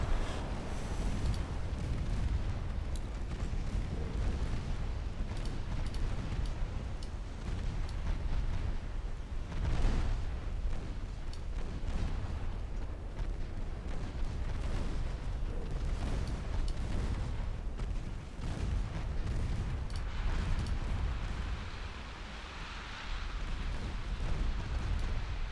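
Artillery shells fire and burst in a naval video game battle, with a convoy and destroyers, as a dense, continuous roar of overlapping booms and rumbling explosions, loud and sustained with no clear pauses.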